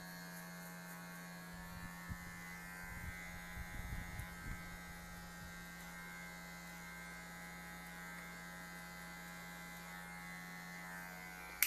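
An electric hair clipper, used for a drop fade with its guard removed, gives a steady faint buzz throughout, with a short burst of louder cutting noise near the start.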